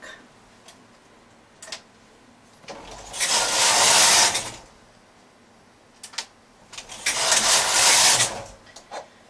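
Knitting machine carriage sliding across the needle bed while knitting short rows on a bag flap, two loud whooshing, clattering passes separated by quieter clicks and ticks of adjustments, close by, no talk.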